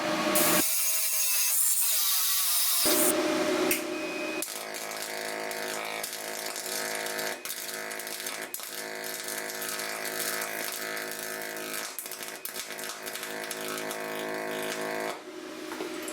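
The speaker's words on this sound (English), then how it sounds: "we're going to pulse weld this" Dual pulse welding on not-quite-clean metal gives a steady, close crackling buzz with rhythmic pulsing and sputtering, running almost unbroken after a brief start-up burst.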